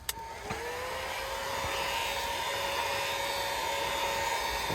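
A heat gun blows hot air onto adhesive during a footwell lighting kit install on an Infiniti Q, a steady loud whooshing hiss with a whining motor tone that starts abruptly and holds for several seconds.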